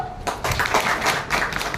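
A classroom of students claps together during a maths lesson, a short burst of scattered hand claps of moderate loudness.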